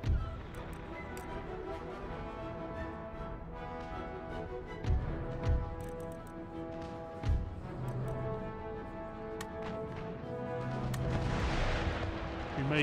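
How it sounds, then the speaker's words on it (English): Ship cannon broadsides in Empire: Total War, a naval battle between sailing warships and a war galleon: several heavy booms land over a steady background of music and battle noise, with a few sharp reports standing out midway. "you're pummeling in broadsides"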